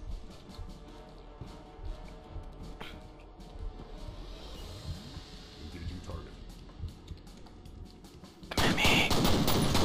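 Gunfire in the video game F.E.A.R. Perseus Mandate, with scattered sharp shots and firefight noise throughout and a loud sustained burst of fire in the final second.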